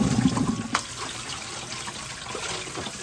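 Water drains from boiled, rinsed glass noodles, with a brief splash at the start, then soft, continuous trickling and dribbling, fairly quiet and close.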